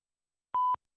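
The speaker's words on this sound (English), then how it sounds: "At the tone, please record your message." An answering machine beeps once with a short, clean, steady tone before message recording, sounding alone in silence.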